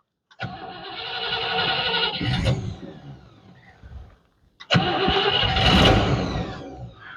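Rough car engine cranking and catching twice, each start flaring into a loud uneven run for a couple of seconds and dropping away before the second start roars up again, close by.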